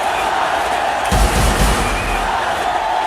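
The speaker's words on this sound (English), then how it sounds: "You can hear the crowd screaming for their favourite, the Little Master." A stadium crowd at a cricket match screams and cheers for a star batsman, a steady roar of massed voices with a louder swell in the middle.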